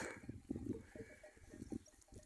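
Several sheep bleat in overlapping, wavering calls on grazing ground behind a house in Turkey, fairly quiet and slightly distant, with outdoor background noise.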